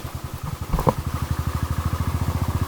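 A motorcycle in first gear on an off-road downhill descent, its engine thumping in a steady, fast rhythmic pulse up close, with a brief clatter early on.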